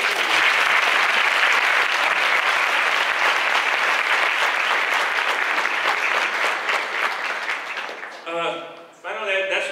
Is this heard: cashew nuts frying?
no